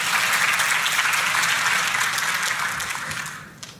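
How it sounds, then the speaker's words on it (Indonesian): A church congregation breaks into sustained, full applause that fills the room evenly and then fades toward the end, with no speech over it. "Boleh kita kasih tepuk tangan?"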